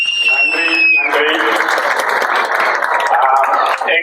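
Audience applause at a Tamil association event's vote of thanks: crowd clapping under loud amplified speech, with a brief tone at the start, continuing steadily throughout.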